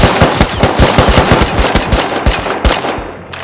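Automatic gunfire in the survival video game Rust: loud, close, rapid bursts of shots in a fast even rhythm that thin out and stop at the end.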